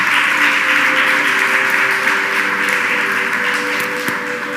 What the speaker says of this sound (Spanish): Dale un aplauso fuerte a Jesucristo.